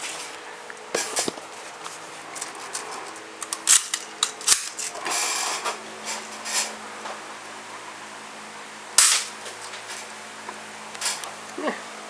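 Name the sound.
Marksman Repeater vintage air pistol firing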